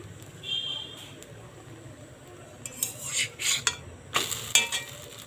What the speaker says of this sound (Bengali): তো প্রথমে আমি শুকনো খোলায় আর কি এগুলোকে সেঁকে নিচ্ছি।